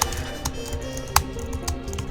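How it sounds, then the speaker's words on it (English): Quiet, steady keyboard typing with irregular clicks and one sharper keystroke partway through, no voices. "You keep typing."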